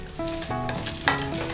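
Indomie goreng instant noodles stir-fried in a pan in Africa, a near, steady sizzle with scraping spatula strokes and a sharper clang about a second in, no talk.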